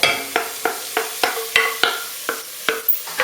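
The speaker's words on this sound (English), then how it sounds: "And then the leeks are going in now." Leeks and red onion fry in a pan under a soft, continuous sizzle, with about a dozen sharp, evenly spaced scrapes or taps of a spoon against the pan, close and clear with no voices.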